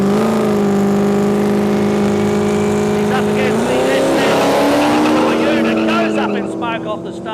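A Toyota Supra drag car launches off the start line at a no-prep airstrip street drag meet, a loud droning engine note climbing sharply as it pulls away, with crowd chatter and commentary mixed in.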